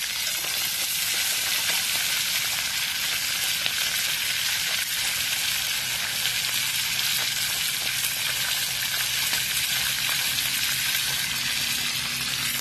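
Small brackish-water crabs (ba khía) fry in a pan with a loud, steady sizzle that carries the whole way through, a crackling hiss with occasional spits and stirring, and no talk over it.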